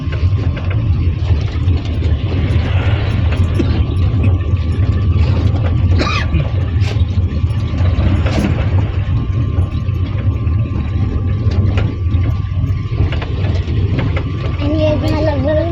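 Stopped trucks idle in a roadworks queue near Sangameshwar, a loud, steady low engine rumble that fills the whole stretch, with voices talking over it.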